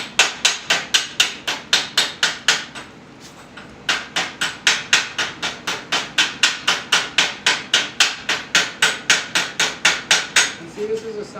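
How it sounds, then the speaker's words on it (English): A hammer beats repeatedly on a bad weld, sending out a long run of sharp, evenly paced metallic strikes. The loud blows pause briefly near the start, then resume in a steady rhythm with no talking. "I should not have to beat it like this"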